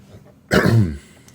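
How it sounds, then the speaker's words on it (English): A single harsh throat clearing, close and loud, lasting about half a second against a quiet background. "excuse me while I clear my throat"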